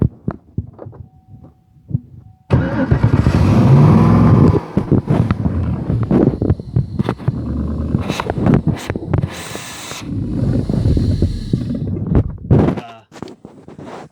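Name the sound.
buggy engine being started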